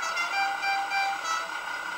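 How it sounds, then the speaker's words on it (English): A toy truck's air horn module toots steadily, a thin tonal blare repeating in a gentle pulsing rhythm, fairly quiet and alone. "if we use channels 5 and 6, we can get the silly air horns"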